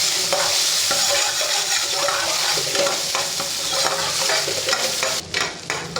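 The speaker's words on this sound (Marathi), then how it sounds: "फ्राय पॅन घ्यायचं आहे त्याच्यामध्ये तेल घातलेलं आहे थोडासा कांदा घालायचा" Chopped onion frying in hot oil in a frying pan for a restaurant-style gravy, with a steady, dense sizzle and scattered scraping stir strokes throughout, close and fairly loud with no talking.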